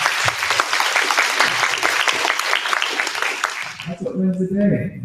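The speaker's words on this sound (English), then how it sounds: "Give them a big round of applause." Loud, dense applause fills a room for staff members at an event, steady clapping for about four seconds before a voice speaks as it dies down.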